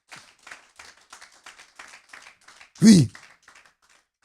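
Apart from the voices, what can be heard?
congregation applauding the king of kings in church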